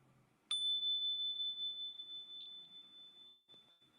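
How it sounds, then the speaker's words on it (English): Small chimes are struck once and give off a bright, clear ringing tone that hangs in the air and slowly fades, heard alone in a quiet room. "my little chimes."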